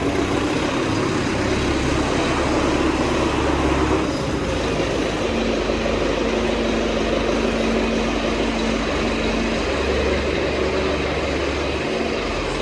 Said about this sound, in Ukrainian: погрузчик на цьому тракторі працює е, швидше, швидше піднімає.